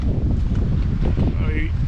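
Strong wind buffets the microphone at a Pender Bay beachside campsite in Australia, a loud continuous rumble with gusty rustling throughout the short stretch.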